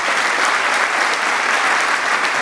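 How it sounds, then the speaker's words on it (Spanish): An audience in the auditorium of a state high court applauds an award recipient at a recognition ceremony, with continuous dense clapping at an even, strong level from start to finish. "Un aplauso para él, por favor."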